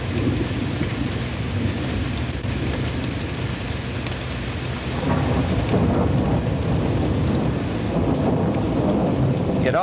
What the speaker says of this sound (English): Daisy, Corey, it's going to be a tremendous lightning storm.